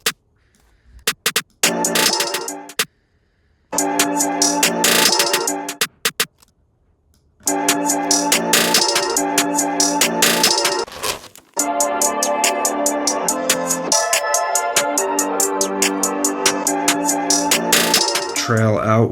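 A busy electronic trap drum beat with crisp hi-hats and rapid snare rolls, broken by short silences before the pattern resumes and runs steadily.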